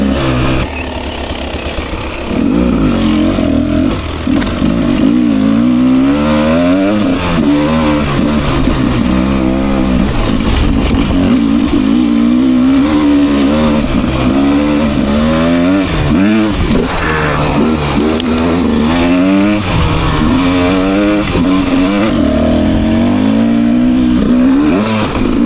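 A 2024 Beta 300 RR Race Edition two-stroke off-road motorcycle being ridden, its engine loud and close throughout, rising and falling in pitch as the throttle is opened and eased with repeated revving surges.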